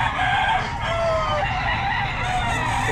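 Roosters crow at a poultry seller's place, with several overlapping cock-a-doodle-doo calls and clucks from a flock nearby, loud and layered against a busy farmyard background.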